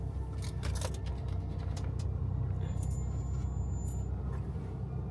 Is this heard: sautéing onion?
no